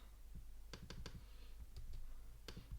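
Fingers type quickly on a computer keyboard, a few close, crisp key clicks in a short cluster followed by a pause and a final tap, faint and alone over low room hum.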